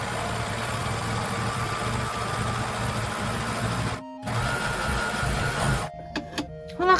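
Overlock serger machine running steadily while stitching a long seam on coat fabric, a loud continuous mechanical whir that stops briefly, resumes, then cuts off near the end with a few small clicks.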